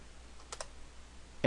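Keys on a computer keyboard clicking during a coding tutorial: a couple of faint, quick taps, then a sharper burst of keystrokes at the very end, with no voices.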